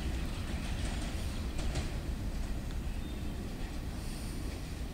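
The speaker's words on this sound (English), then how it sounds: "it's just regular CS6 Rock Train with CS6 Rock Hoppers" A CSX rock train with rock hopper cars rolls past at Catawba, South Carolina, on the Monroe Subdivision, giving a steady, fairly distant rumble of wheels and cars that holds constant throughout with no horn.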